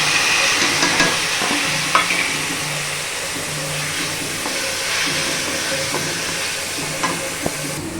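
Cumin powder with onion, garlic and ginger paste fries in a pan for a jackfruit curry, a steady close sizzle with occasional scraping stirs and light clinks, no talking.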